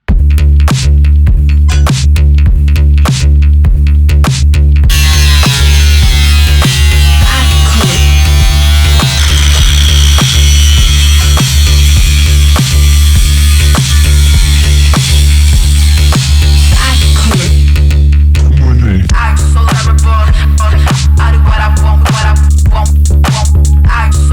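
A loud power tool buzzes and screeches continuously while cutting through a Porsche body along a marked line for a widebody kit, with harsh metallic ringing and a steady droning hum throughout.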